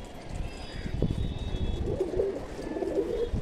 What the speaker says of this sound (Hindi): तो भाई यहाँ एक कबूतर उड़ रहा है